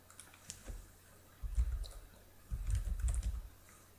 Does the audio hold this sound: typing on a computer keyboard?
yes